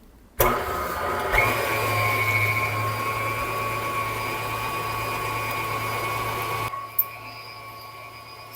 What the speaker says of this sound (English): And then I'm gonna start beating this slowly